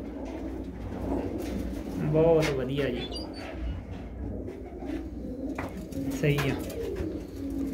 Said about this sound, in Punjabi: ਚਿੱਟੀਆਂ ਅੱਖਾਂ ਦੀ ਕਬੂਤਰੀ ਹੈ